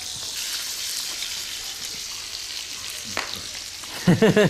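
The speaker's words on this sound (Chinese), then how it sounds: "我再煎" Fertilized duck eggs (balut) fry in a pan with a steady, loud broadband sizzle throughout, a brief stir or scrape near the end, and a short bit of voice at the close.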